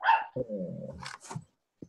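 A dog barks and yips close by in a quiet room, a short run of sharp barks with a growly tail, then a brief final yip after a pause.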